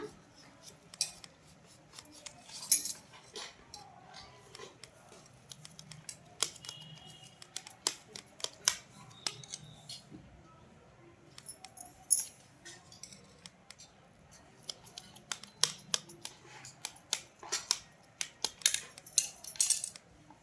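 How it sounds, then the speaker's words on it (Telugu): A knife cutting a cooled cabbage and egg omelette into pieces on a plate, giving sharp, irregular taps and clicks against the plate, close and quiet, scattered over a soft background hum. "ఇంకా దీన్ని ఇలా పీసెస్ అయితే కట్ చేసుకుంటున్నా"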